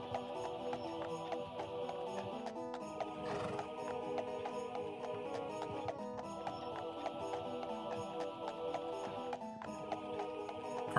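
A video game horse pulls a cart, its hooves clip-clopping in a steady rhythm with an occasional whinny, set against continuous game music.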